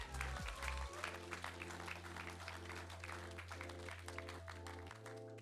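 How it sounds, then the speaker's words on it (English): Faint applause from a church congregation sits under sustained musical tones and a low hum, steady and distant for several seconds. "So can we just show our appreciation and give a round of applause?"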